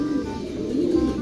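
A racing pigeon in a breeding loft gives a low, rolling coo that rises and swells near the end. It is close and clear over a faint background hum.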